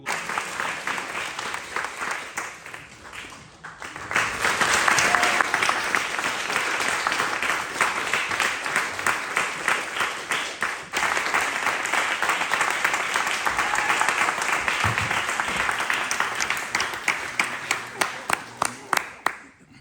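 Graduation audience applauding the graduates: a short burst of clapping, a brief lull, then loud sustained applause that thins into separate, distinct claps near the end.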